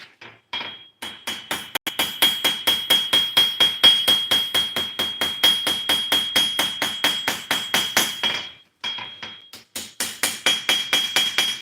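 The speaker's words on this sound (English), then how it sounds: "Ideally, you move the work under the hammer as much as you can." Power hammer forging a blade, a fast steady train of sharp ringing metallic blows, close and loud, with two short pauses before the pounding resumes.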